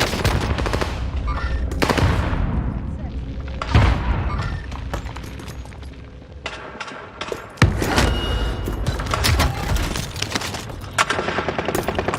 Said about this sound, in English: Incendiary rounds on a purple MP40.